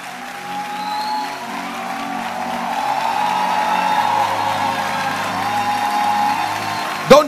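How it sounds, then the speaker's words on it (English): A large audience at a church conference keeps up steady, continuous applause with scattered cheers, and a louder thump sounds near the end. "Keep clapping. I didn't ask you to stop. You just keep clapping."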